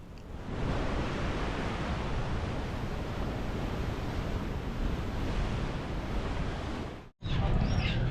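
Ocean waves break at Coogee beach in Sydney, making a steady, broad roar of surf mixed with wind buffeting the microphone, then a brief cutout before the surf noise returns.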